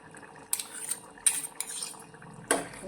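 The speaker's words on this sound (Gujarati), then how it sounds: "આ રીતે બેથી ત્રણ ટુકડા બટેકાના આ ચમચામાં લઈ લઈશું અને ચમચીથી તેને પ્રેસ કરી અને ઝીણા કરી લઈશું" A spoon presses and mashes two or three potato pieces against a ladle in a pan of potato curry, giving a few sharp metallic clinks and scrapes spaced apart, fairly close, with no talking.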